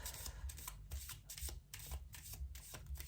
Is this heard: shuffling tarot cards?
yes